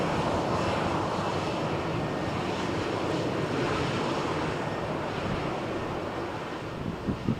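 An EasyJet jet bound for London Luton roars at Malaga Airport on a stormy morning, a broad, steady engine rumble mixed with wind buffeting that holds loud for several seconds.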